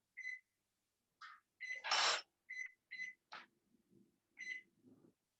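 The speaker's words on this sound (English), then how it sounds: "I'm going to set the timer. You can hear that." Kitchen oven timer being set for a batch of jelly cookies: a run of short, high electronic beeps, some single and some paired, close and clear, with soft handling clicks and faint rustles in between.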